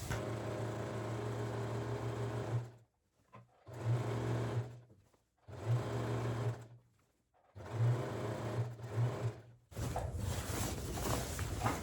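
A sewing machine stitches a garment's crotch seam in four loud, steady bursts of motor hum and needle clatter, each a second or two long, separated by brief silent pauses while the fabric is repositioned, ending in a rougher handling noise.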